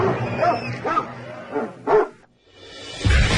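Dog after a record high jump, climb and toy retrieval reaching 9 feet 4 inches, giving a few close, loud barks and yips with short whimpers between them.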